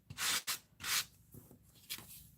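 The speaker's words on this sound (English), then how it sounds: "all I'm going to do is I'm just going to kind of slide this, and it's going to kind of sand off" A coarse sanding block slid across raised stamped areas on a crafted surface, giving several close, breathy rasping strokes, two long and strong followed by shorter, fainter passes, with no talking.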